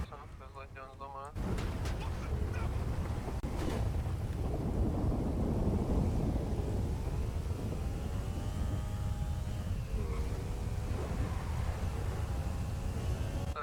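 A thunderstorm rolls through a roleplay video game, a deep, continuous rumble of thunder with wind and rain noise that swells after a brief quiet start. Voices talk over it.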